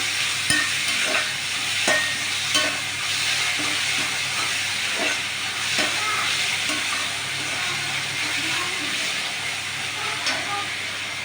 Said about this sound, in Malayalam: ചുവന്നുള്ളി സവോള വേഗം വാടാൻ വേണ്ടിയിട്ട് ലേശം ഉപ്പിട്ട് കൊടുത്തു